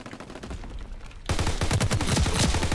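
Rapid bursts of automatic gunfire from the World War II shooter Call of Duty: WWII rattle out loud and close after a quieter opening, with repeated shots piling into a sustained volley.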